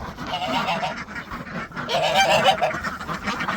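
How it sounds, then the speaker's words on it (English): Goose honking amid a backyard pond flock with ducks, a run of loud nasal honks and calls close by, rising again after a brief lull, with no talking. "Isn't that a goose?"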